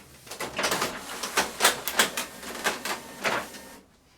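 An Epson WorkForce R5690 printer powers down with a run of rapid mechanical clicks and whirring bursts, fairly close and steady for several seconds before cutting off abruptly into near silence.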